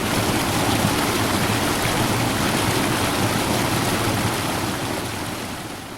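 Steady roar of a waterfall plunging about 40 feet into Murder Creek at Akron Falls Park, a dense, loud wash of falling water heard close by and alone, easing slightly toward the end.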